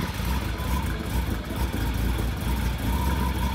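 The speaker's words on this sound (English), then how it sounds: "it sounds like two DeLorean engines bolted together" A replica Ferrari Testarossa kit car idles with a steady, rough low rumble, close and continuous with no revving or speech.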